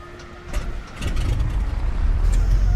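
Engine start of a Black Square Grand Duke twin-engine aircraft in a flight simulator: quiet clicks, then a rising rumble that settles into a steady loud low drone, with no talk.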